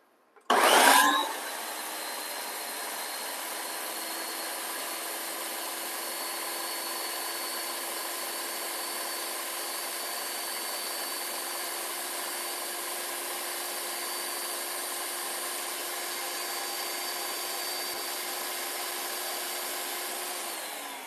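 Kitchen blender blending salsa ingredients, starting with a sharp clatter and then a steady loud whirring motor drone that runs unchanged for about twenty seconds before easing off.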